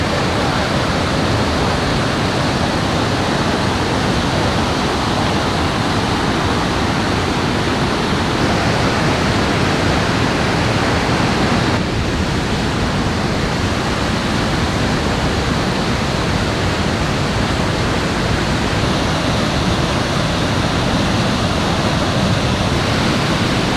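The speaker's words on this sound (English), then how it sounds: "standing right here, there's a breeze and mist blowing right in your face from the waterfall's force" A waterfall near Geiranger in Norway roars close by, a dense, steady wash of rushing, crashing water that fills the whole scene without a break.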